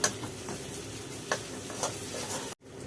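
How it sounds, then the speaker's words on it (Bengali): Onion with garlic and ginger paste frying in a pan for chicken vartha, a steady close sizzle with a few stirring scrapes, cutting off abruptly near the end. "রসুন বাটা একটু ভাজা ভাজা হয়ে যায়"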